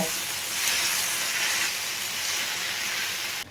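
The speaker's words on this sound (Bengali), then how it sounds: "এবার আমি এটা ভালো করে মিশিয়ে নেব।" Drumstick flowers for chorchori sizzle in a pan with mustard paste and a little water as they are mixed, a steady close hiss throughout that drops away at the very end.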